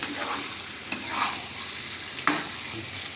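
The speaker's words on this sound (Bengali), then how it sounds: "এবার ভেজে রাখা চিকেনগুলোকে আমি দিয়ে দেবো চিকেনের সাথে একসাথে মশলাগুলোকে আমি মিশিয়ে দেবো" Fried chicken pieces are stirred into a cooked-down spice masala in a pan, with a steady low sizzle and a few sharp scraping knocks of the spoon against the pan.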